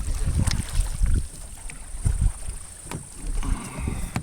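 A canoe is paddled along the Potomac River toward rapids: dull, low paddle strokes and water swishes recur every second or so, with wind buffeting the microphone.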